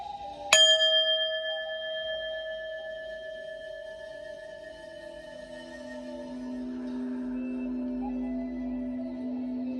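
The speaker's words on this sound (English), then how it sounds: "let's ring the bell and get into it." A single bell is struck once, a sharp clear ring that sustains for several seconds with shimmering overtones and slowly fades, alone in a quiet room.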